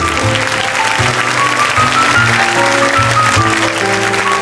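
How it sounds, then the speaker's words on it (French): Studio audience applause on a 1977 French television show, a steady wash of clapping mixed under loud music with a rhythmic beat throughout. "Allez, viens Philippe, on applaudit."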